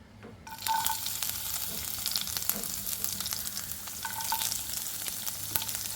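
After a brief quiet moment, garlic drops into hot oil and sizzles in a steady close crackle, with faint stirring and no talking.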